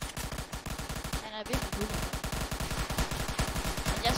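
Rapid automatic gunfire from a Roblox war game, a steady stream of loud shots that pauses briefly and then continues, with someone speaking over it.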